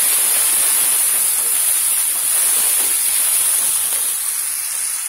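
Ground cumin, ginger and garlic paste fry in hot oil in a pan with a loud, continuous, close hiss and sizzle.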